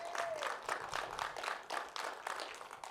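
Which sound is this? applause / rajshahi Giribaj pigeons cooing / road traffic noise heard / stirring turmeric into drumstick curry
applause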